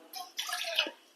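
Water is poured onto soaked rice in a mixer grinder jar, a short splashing trickle lasting under a second, close and fairly soft.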